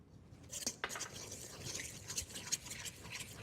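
A fork mixes cake batter for an apple upside-down cake while flour and milk are added. It makes soft, close scraping and light clinks against the bowl in an uneven rhythm, and no one speaks.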